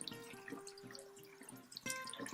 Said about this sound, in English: now you're going to rinse this brush out as well, just like the first method